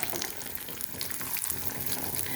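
Cashew nuts and raisins frying in ghee for a pasta payasam, a steady close sizzle and crackle filling the whole stretch with no talk.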